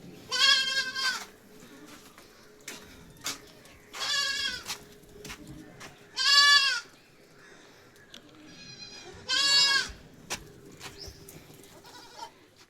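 Seven young goat kids on a farm bleat in a string of loud, wavering cries spaced a few seconds apart, with softer calls and small bleats between them and no speech.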